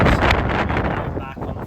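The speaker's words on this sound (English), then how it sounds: "It's still very windy." Strong wind buffets the microphone on a farm, producing a loud, continuous roaring rumble with rough gusty fluctuations throughout the short stretch.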